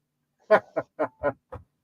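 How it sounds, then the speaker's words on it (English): A phone notification tone sounds as five short, bright quack-like bursts in quick, slightly uneven succession, clear and close with silence around them. "That was my notification."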